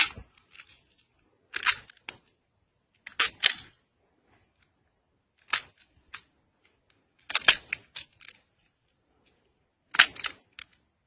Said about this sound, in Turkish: Şimdi narımızı açıyoruz.